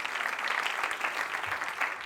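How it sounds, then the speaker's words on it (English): An audience at a live magic show claps steadily in a continuous, moderately loud patter of applause that lasts about two seconds without any voices over it. "Give him a round of applause."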